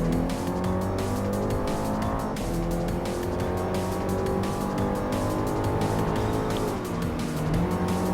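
Alpine A110 race cars accelerate together at Dragon Trail Seaside in Gran Turismo Sport, with a loud, continuous pack of revving engines whose pitch climbs and shifts through gear changes, close up and unbroken.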